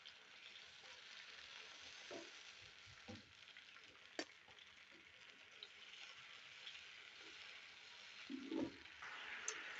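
Ground tomato paste sizzles in hot oil for a beef chatkhara kabab, a steady crackling fry throughout with a few utensil clicks and a brief louder bubbling burst near the end.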